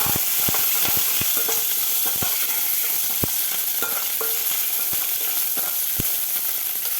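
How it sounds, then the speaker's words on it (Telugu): Spices and dried red chillies tempering in hot oil for a curd-mustard dish give a steady, close crackling sizzle with scattered sharp pops and a few clicks of a utensil, all without speech. "ఎండుమిర్చి మిర్చి లాస్ట్లో వేసుకోవాలి లేకపోతే మాడిపోతాయి"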